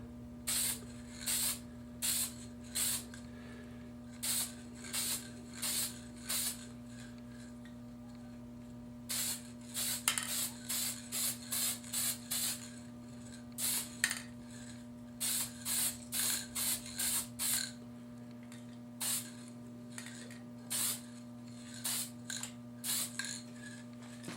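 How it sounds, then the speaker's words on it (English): Repeated short hissing bursts of an aerosol spray paint can painting a scale model car silver, sprayed in quick rhythmic pulses over a steady low hum, with brief pauses between runs. "that's just because I'm used to spray painting"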